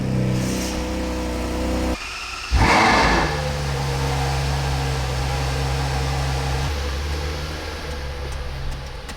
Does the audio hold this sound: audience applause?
no